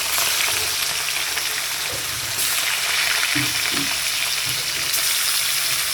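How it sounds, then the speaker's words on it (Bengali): Pieces of katla fish, coated in spices, frying in oil in a pan, giving a steady close sizzle with a few soft clinks and stirring taps; no voices. "মাছ ভাজা বসাবো, মাখিয়ে রেখেছি"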